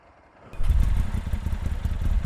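A Ducati middleweight sport bike from before electronic aids fires up after a brief quiet moment, then settles into a loud, close, lumpy running idle with steady throbbing pulses.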